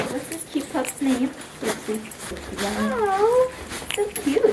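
A dog whimpers in a rising and falling whine near the middle, brief and close, while people talk warmly around it in a veterinary-style visit about a sore foot.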